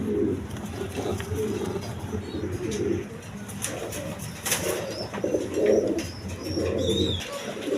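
A pair of Mumbai pigeons in a cage, cooing in repeated low, throaty bursts, with some higher chirps and bird calls in the background and light rustling nearby.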